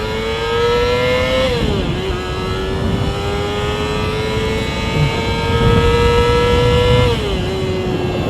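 A Yamaha FZR250 motorcycle engine screams at high revs while climbing a hill, holding a steady whine with two brief dips where the pitch drops and then rises again, loud and close throughout.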